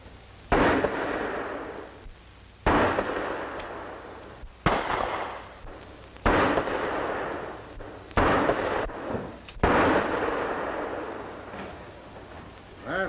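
Pistol gunshots at police target practice, six sharp loud reports spaced roughly two seconds apart, each followed by a short decaying echo.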